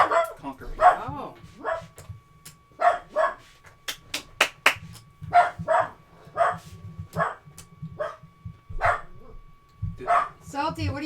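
Salty, a dog indoors, barks repeatedly in a series of sharp yaps with a few quick clustered barks midway, fairly close, alongside some talking in the room.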